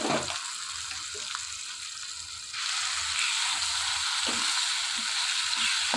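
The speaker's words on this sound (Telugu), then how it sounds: "మొత్తం ఫ్రై అయిపోయిన ఈ తాలింపులో మిక్సీ పట్టి పక్కన పెట్టుకుని పచ్చడి అంతా కూడా ఇందులో వేసేసుకోవాలి" Ground coriander-tomato chutney hitting hot tempering in a pan, a soft sizzle that swells into a louder, broader hiss partway through and keeps going with faint stirring scrapes.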